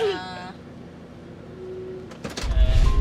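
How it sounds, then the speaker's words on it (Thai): A door slammed shut too hard, a loud, heavy bang near the end after a stretch of quieter room noise, with voices talking earlier. "ปิดประตูแรงเกิน"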